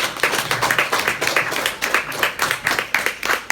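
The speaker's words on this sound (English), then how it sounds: "Please welcome him with a round of applause." A room full of people at an annual charity dinner clapping steadily, dense overlapping claps at a lively even pace, fairly close and loud throughout.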